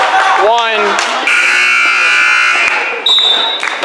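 A loud, sustained end-of-quarter buzzer at a CBA Patriots vs SR Panthers championship basketball game sounds for about two seconds over crowd noise, with an announcer's voice heard just before it.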